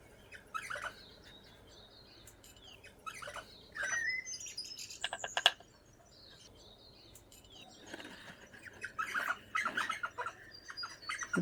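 Parrots squawk and chirp in a garden in short, scattered bursts, some close and loud, with a flutter of wings among the calls and quiet gaps between them.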